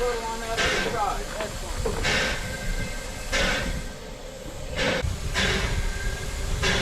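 An old steam locomotive about a century old vents steam in repeated loud hissing bursts over a constant background hiss and rumble, with voices of workers talking nearby.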